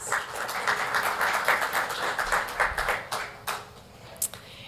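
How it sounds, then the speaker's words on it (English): A conference audience claps for sponsors: scattered, fairly light clapping with distinct individual claps, gradually thinning out toward the end. "I'd like to give just a round of applause to our Roche sponsors."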